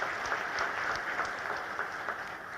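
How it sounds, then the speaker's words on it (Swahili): An audience at a hotel launch ceremony applauds, steady massed clapping heard from a short distance and holding at even volume throughout. "naomba tupige makofi"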